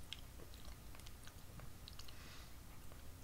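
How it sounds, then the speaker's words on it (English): Chewing of crunchy chocolate-covered butter cookies, with faint, close crunching and mastication noises at a low level and no talk. "Very crunchy. Butter cookies. Chocolate-covered butter cookies."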